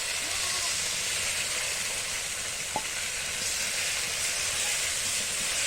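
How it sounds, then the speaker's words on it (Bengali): Bowl-rinsing water hits spice paste frying in a pan for biryani, giving a steady, loud sizzle and hiss throughout with one brief clink midway. "এবার বাটি ধোয়া জলটা একটু এতে দিয়ে দিচ্ছি"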